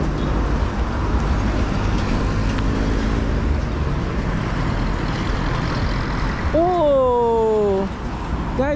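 Heavy Nairobi street traffic rolls steadily through an intersection at a traffic light, a dense roadway roar of cars, buses and trucks. A short rising tonal call cuts in near the end.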